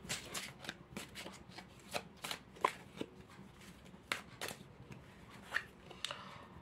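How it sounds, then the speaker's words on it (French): Tarot cards being shuffled by hand, a run of crisp riffling and flicking bursts at an irregular rhythm, close and fairly quiet, with no talking. "je vais commencer à battre les cartes"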